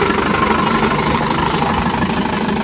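Steady engine drone of a travel vehicle on a mountain road trip to Kailasagiri, a continuous low rumble with light vibration, moderately loud and unbroken, with no talk over it.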